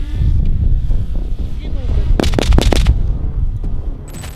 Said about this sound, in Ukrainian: Граната! Упали, упали, упали!